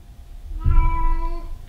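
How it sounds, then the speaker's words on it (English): A house cat gives one loud, drawn-out complaining meow close by, lasting about a second, with no talking over it. "the cat is complaining because she can't go downstairs"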